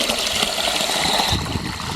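Water is poured steadily into a chick waterer, a continuous splashing gush of liquid filling the container up close, with no talking.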